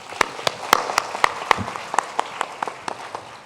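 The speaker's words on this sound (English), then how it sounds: "please a big round of applause for the second team performance" Sparse, distinct hand claps from a small audience after a team performance at a teaching event, a dozen or so individual claps ringing out at an uneven rhythm.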